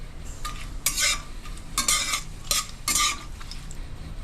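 Bay leaves, dried chillies, cloves, cinnamon and crushed green cardamom fry in hot mustard oil while a spoon stirs them, giving bursts of crackling sizzle and scraping in four or five rhythmic strokes against a low steady hiss.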